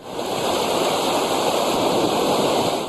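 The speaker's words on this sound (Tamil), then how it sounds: "மலையோர பகுதிகளில் திடீர் அருவிகள் உருவாகி சாலைகளில் வெள்ளம் கொட்டுகிறது." Floodwater rushes down hillside roads in heavy rain, a loud, steady, close roar of torrenting water throughout.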